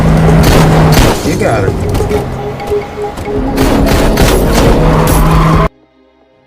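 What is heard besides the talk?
gunfire in a movie shootout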